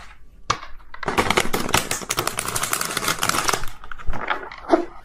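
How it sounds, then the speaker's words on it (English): A tarot card deck is shuffled in quick, stiff riffles, a dense close-up flurry of card flicks and clatter lasting several seconds, with softer handling sounds before and after. "So hard to shuffle this deck"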